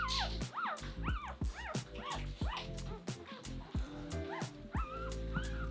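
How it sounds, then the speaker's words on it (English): Cavalier King Charles Spaniel puppies, a blanketful of them, whimper and yip close by in a steady run of high, wavering cries with small barks mixed in. "A whole blanket full of puppies, my goodness."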